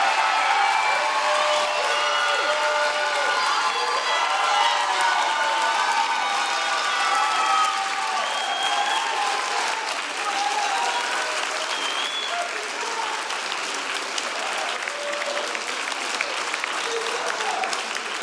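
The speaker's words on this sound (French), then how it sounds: "On peut les applaudir!" Loud, sustained applause from a concert audience, thick continuous clapping mixed with cheers and shouts throughout, tailing slightly toward the end.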